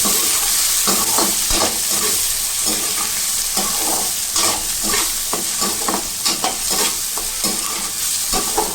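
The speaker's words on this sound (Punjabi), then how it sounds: "ਪਿਆਜ਼ਾਂ ਨੂੰ ਅਸੀਂ ਚੰਗੀ ਤਰ੍ਹਾਂ ਹੀ ਫਰਾਈ ਕਰਨੇ ਆ" Onions fry in a pan while being stirred vigorously, a loud, continuous sizzle cut by repeated rhythmic scrapes and knocks of the spoon against the metal, close up with no voices.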